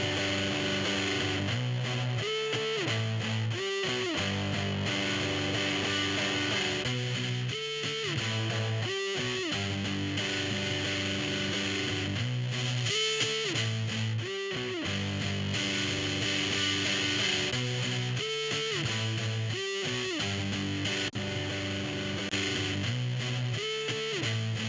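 A soloed distorted electric guitar track in a mixing session plays alone with effects, steady riffs repeating in a loop at full volume, no other instruments or voices.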